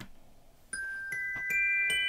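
Bright little bell tones in a Christmas song ring out in a rising sequence of four struck notes, each chiming and sustaining over the next, clear and close.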